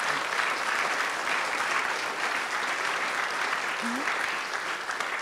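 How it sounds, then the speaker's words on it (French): A large political audience applauds continuously throughout, a broad, even wash of many hands clapping at close range with no pause, during an inaugural speech on Gaullism and sovereignty. "Alors oui, vous pouvez l'applaudir parce qu'il le mérite."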